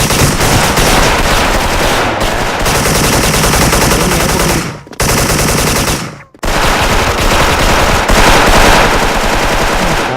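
Loud, continuous automatic gunfire from a shooter video game, long rattling bursts filling most of the stretch with two brief gaps of near silence between them.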